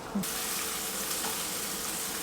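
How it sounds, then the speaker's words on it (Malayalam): Steady close sizzle of masala sautéing in hot Eastern brand coconut oil in a pan for a Ramadan nombu kanji, continuous and even with a brief stir knock near the start. "ഈസ്റ്റേൻ്റെ കോക്കനട്ട് ഓയിലാണ് നമ്മൾ മസാല സോട്ട് ചെയ്യുന്നത്"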